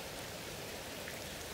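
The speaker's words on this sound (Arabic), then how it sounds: "وبص الدنيا بتمطر" Rain falls during a storm in Egypt, a constant, even hiss of drops filling the brief moment with no other sounds.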